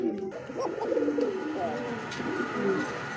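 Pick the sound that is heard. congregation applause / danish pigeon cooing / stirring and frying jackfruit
danish pigeon cooing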